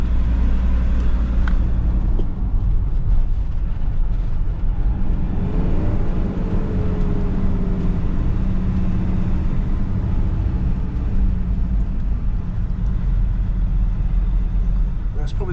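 A car cruises along the NC 500 north coast road in the Scottish Highlands between Dunnet Bay and Smoo Cave, its steady low engine and road rumble filling the cabin while people talk over it.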